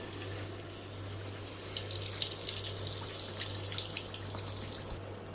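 Batter-dipped bread stuffed with potato fries in hot oil, giving a steady, moderately quiet sizzle and crackle with a low constant hum beneath.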